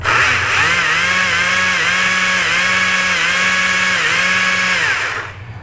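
A Stihl AK-series battery chainsaw runs steadily at close range, a loud, even electric whine with slight repeating dips in pitch, then spins down at the end.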